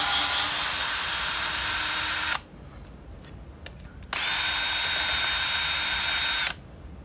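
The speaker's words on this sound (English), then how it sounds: "Now what I want to do is go ahead and remove these 2 screws." Cordless drill backing screws out, two long steady high-pitched whirring bursts, close and loud, separated by a brief quiet pause with small clicks.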